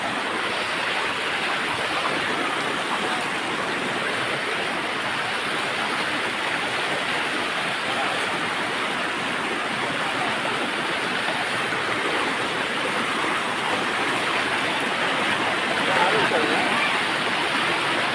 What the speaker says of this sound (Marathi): ही अशी वाहत नदी येते